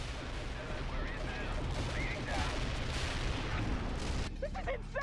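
Dense artillery fire support in the World in Conflict video game rumbles as continuous heavy booming and shelling, with a voice speaking over the barrage before it cuts off near the end.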